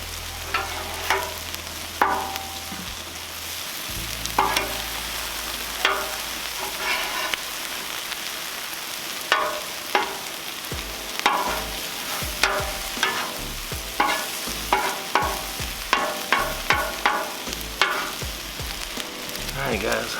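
Chicken fajitas sizzle steadily on a Cuisinart 360 griddle cooking center outdoors at dusk, a continuous frying hiss broken by frequent sharp crackles and pops, with a low hum early on and no talking.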